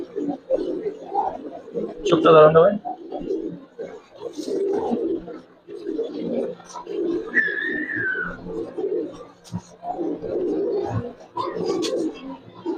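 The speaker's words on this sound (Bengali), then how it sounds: "এটা একটা নর কবুতর, এর ডাকটা দেখাই দেবো" A single male pigeon gives low, rolling coos that repeat in steady bursts, close by, while someone talks over them for much of the time.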